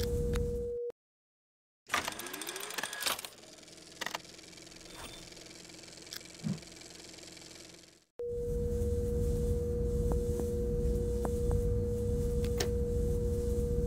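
Adjustable signal tone from the Myst IV Revelation PC game: a steady pure sine beep that cuts out, gives way to chirping, warbling sweeps, then returns as a constant tone over a low hum.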